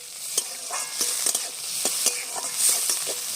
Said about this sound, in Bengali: অল্প করে দিয়ে ভালো করে একটু ভেজে নেবো